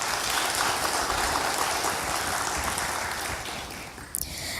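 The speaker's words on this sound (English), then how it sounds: "another big round of applause for him" Sustained applause from an audience at a certificate distribution ceremony held by Trinidad and Tobago's Ministry of Land and Marine Resources, a steady dense clatter of clapping that carries on throughout and thins slightly near the end.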